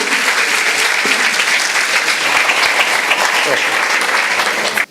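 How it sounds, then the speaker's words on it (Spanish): An audience at an international seminar on intercultural education gives a professor a long, dense round of applause, steady and loud for about five seconds before cutting off abruptly. "Vamos a recibirlo con un fuerte aplauso"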